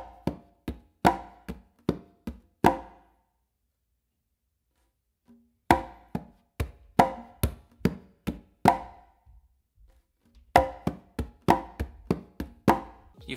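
Hand drums on congas play a rumba clave independence exercise, three phrases of quick, crisp slaps and open tones with short gaps between them, struck close and alone without talk.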